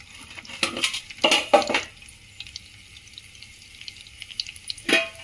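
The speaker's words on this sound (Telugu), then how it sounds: "ఆయిల్ వేడెక్కినాక ఎల్లిపాయలు నలిపి కొంచెం వేసుకుంటున్నాను" Crushed garlic drops into hot oil in a home kitchen pan, sending short bursts of sizzling and spattering, with a final burst near the end over quiet background hiss.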